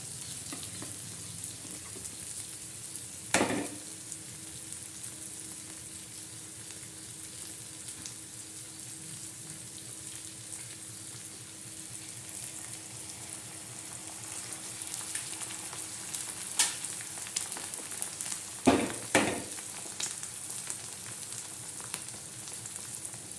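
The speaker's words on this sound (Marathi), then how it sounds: "लालसर भाजलेली एकदम चमचमीत अशी अंड्याची चटणी बनत आहे आपली" Egg chutney with crushed chilli thecha fries in a pan with a steady, close sizzle that runs throughout, broken by a few sharp spatula stirs and scrapes near the start and toward the end.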